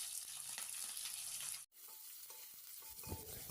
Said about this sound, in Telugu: నెక్స్ట్ పచ్చిమిర్చి వేగుతూ ఉండగా సన్నగా తరిగిన ఉల్లిపాయలు వేసుకోవాలి.